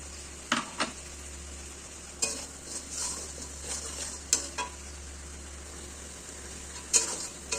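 Ginger garlic paste and tomato frying in a pan for egg curry are stirred with a utensil, producing a low sizzle punctuated by several distinct scraping knocks against the pan.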